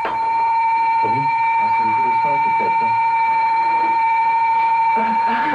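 An evacuation alarm bell rings continuously as a steady electric tone held through the whole stretch, while a group of people talk underneath it.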